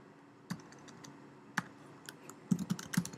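Keys on a computer keyboard tapped while editing a PSD header template, scattered single clicks and then a quicker cluster of keystrokes, quiet and close, with no voices.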